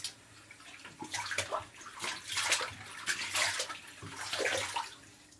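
Water runs from a tap while a removed eyebrow piercing is rinsed, a steady splashing flow with uneven bursts and gurgles, fairly close and moderately quiet, with no talking.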